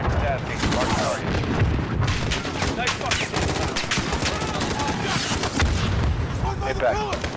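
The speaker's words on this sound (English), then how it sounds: "Missile impact." Heavy explosions and gunfire boom and crackle continuously in Call of Duty Modern Warfare, a missile strike landing amid dense rifle fire at the embassy, loud and close with radio chatter over the top.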